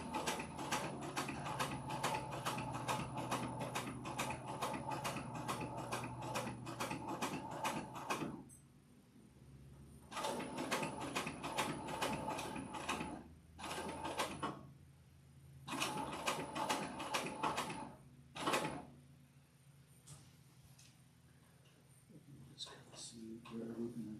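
A sewing machine stitches a leather bag in a studio, running in several bursts of rapid mechanical clatter split by short pauses, close and fairly loud, with brief talk between the runs.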